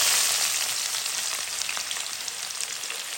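Sliced onion fries in hot oil in a pan for a Bengali chicken and potato curry, giving a steady close sizzle with faint crackles and no voices.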